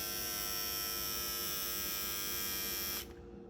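A Remington PF7855 foil electric shaver runs with a steady close buzzing hum for about three seconds, then switches off abruptly, leaving faint room tone.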